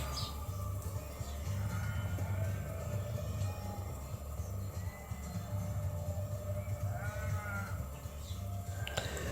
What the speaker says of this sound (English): all I can hear now is sheep baaing in every direction